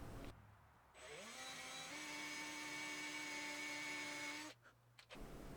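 A power drill bores an access hole in a wooden bass guitar neck for a router bit: motor spins up, holds a steady whine for about three and a half seconds, then stops, heard close and alone.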